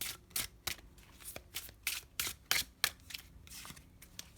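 Color Goddess oracle casting cards shuffled by hand, a run of crisp riffling flutters and soft slaps in an uneven rhythm, close and fairly quiet, with no talking over it.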